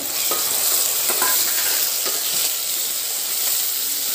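Vegetables and green peas sautéing in a pan for paneer pulao, a continuous bright sizzle broken by intermittent stirring scrapes and taps.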